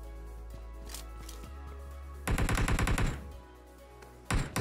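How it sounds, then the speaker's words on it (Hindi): Automatic gunfire in a battle royale shooter, with rapid bursts of close, loud rattling shots over a low game drone, then a pause before another short burst. "यहाँ पे गाइस फायरिंग की साउंड आ रही थी काफी देर से"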